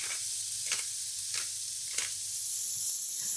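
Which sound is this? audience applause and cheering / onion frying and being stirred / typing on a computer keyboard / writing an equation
onion frying and being stirred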